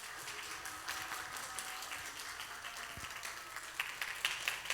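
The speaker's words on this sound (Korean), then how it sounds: "우리 박수로 우리 환영해 주시면 좋겠습니다" An audience at a church summer lecture on worship claps to welcome the guest pastor to the stage, a moderate, scattered applause of many hands with a few sharper claps standing out near the end.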